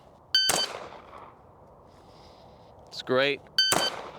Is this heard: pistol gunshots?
yes